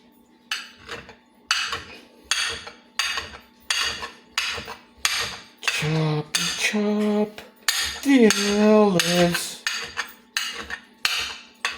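Repeated knife chops on a cutting board as canned olives are chopped, sharp evenly spaced thuds with some clinks of metal, close and clear, with a brief hum partway through.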